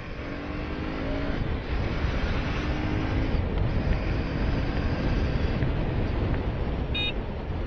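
A KTM Duke 250 Gen 3 motorcycle rides steadily on an Indian road, its engine drone and wind rush continuous and loud throughout, with no pauses or talking.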